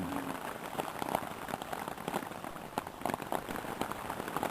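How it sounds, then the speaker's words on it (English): Rain falls during a bad thunderstorm at an overnight campsite in the Nebraska Sandhills, a faint steady patter with scattered distinct drops striking a surface nearby, and no talk. "Pretty bad thunderstorm rolling through."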